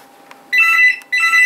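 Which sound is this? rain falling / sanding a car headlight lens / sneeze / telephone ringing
telephone ringing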